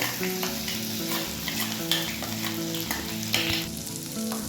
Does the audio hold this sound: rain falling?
no